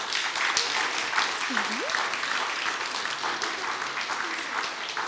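A church congregation at a baptism celebration gives a warm, continuous round of applause, moderately loud and even throughout, with a few voices calling out over the clapping.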